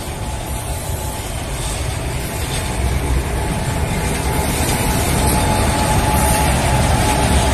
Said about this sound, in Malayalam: ഇത് അപ്പുറത്തും കാണാൻ ട്രെയിന് ക്രോസ് ആവുന്നുണ്ട്